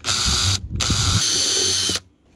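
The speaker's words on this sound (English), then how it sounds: "We'll widen it so it will fit the step drill bit first." An electric drill widens a pilot hole before a step drill bit is used, for a cable gland in a solar setup, with two bursts of high whining motor spin and light grinding, close and loud, then stopping.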